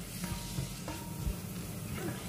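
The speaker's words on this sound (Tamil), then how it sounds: "இப்போ இப்படியே சாதுவா எண்ணெயில் வதக்கிக்க" Spices and turmeric sautéing gently in oil on low heat make a soft, steady sizzle with light stirring touches, fairly quiet and without speech.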